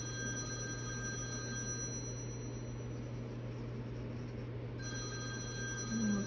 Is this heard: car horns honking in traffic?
no